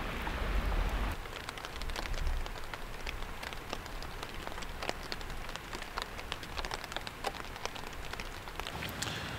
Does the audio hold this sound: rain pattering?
yes